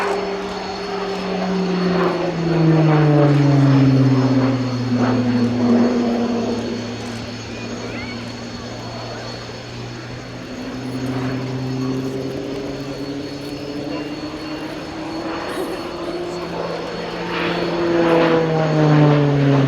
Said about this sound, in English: the Tucano's final year as a display aircraft